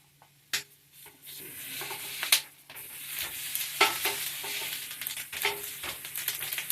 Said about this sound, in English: And then we're cooking some ham,